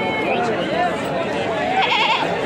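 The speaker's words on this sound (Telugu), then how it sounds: "చూడండి, బాగుంది మేకపోతు." A billy goat bleats among the crowd at a busy goat and sheep market in Cheluru, its wavering cries rising over steady nearby talk and market bustle.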